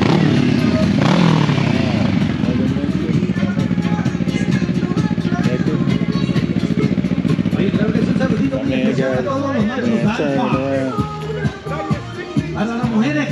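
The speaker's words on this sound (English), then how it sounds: "Bike still coming in." Motorcycle engines rumble and rev as bikes roll into an outdoor bike wash event, loud and close, with people talking and music over the engine noise.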